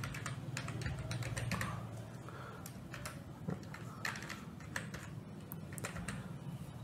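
Steady typing on a computer keyboard while CSS code is written, a quiet continuous patter of individual key clicks with a few louder taps, no voices.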